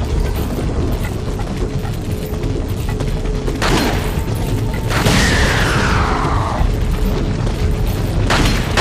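A barrel blows up in Resident Evil 4 after being shot, a single loud burst of crashing debris over steady mechanical background noise, with a descending whine trailing after the blast.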